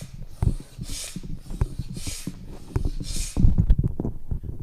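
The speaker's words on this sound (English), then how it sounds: "Bhastrika means bellowing breath." Bhastrika, forceful yoga bellows breathing, comes as a rapid series of loud, close, rhythmic breaths pushed in and out through the nose, with about four strong hissing bursts among quicker puffs.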